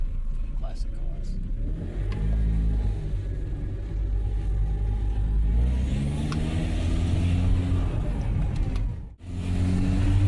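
A car engine rumbles and revs steadily at close range during a test drive, the low drone swelling and easing over about ten seconds, with voices talking over it.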